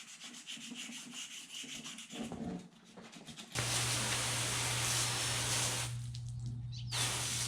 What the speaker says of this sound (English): I'm wet sanding with some 400 grit right now, the whole steering wheel.